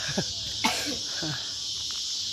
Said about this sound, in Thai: เสียงจิ้งหรีดร้องดังมากเลยค่ะ